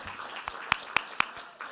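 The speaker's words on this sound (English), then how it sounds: "Can you all please come to the front so that we can give you a round of applause?" A small audience gives scattered, sparse applause for the Office of Global Inclusion team, with a few sharp, distinct claps standing out from a faint background.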